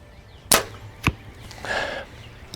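Backyard Bows Xpedition Xlite compound bow shot at a 3D bear target at 40 yards, a sharp release thump followed about half a second later by a fainter impact, with no talk.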